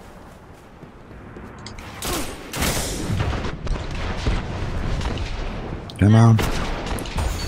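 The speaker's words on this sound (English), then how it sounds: "The Voidwalker scatter grenade is so good" Voidwalker scatter grenade explosions in a Destiny Crucible match, several loud bursts and booms mixed with weapon fire, one sharp blast near the end, while a player speaks briefly.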